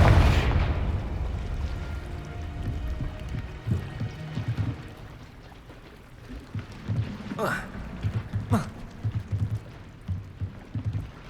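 A Confringo fire spell blasts in Hogwarts Legacy, a sharp burst at the start followed by a few quieter pops and impacts amid game ambience.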